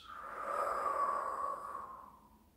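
A slow, steady exhale during a guided relaxation breathing exercise for sleep, a soft airy breath that swells and then fades over a couple of seconds, close and alone.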